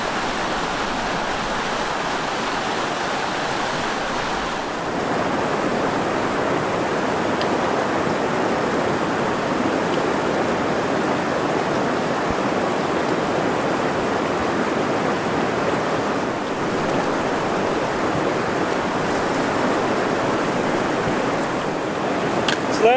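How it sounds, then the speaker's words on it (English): Steady, loud roar of rushing creek water in the Superstition Wilderness, a dense unbroken wash of noise that continues evenly throughout with no voices. "listen to the roaring sounds of the water"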